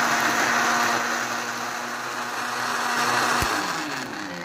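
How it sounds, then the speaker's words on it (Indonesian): A blender grinds curry spice paste with water for shrimp curry, a steady loud motor whir close by that holds evenly with a slight dip and swell in pitch. "Nah ini kita mau giling hingga halus ya."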